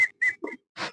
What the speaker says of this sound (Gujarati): બાબા સિસોટી ગળી ગયા છે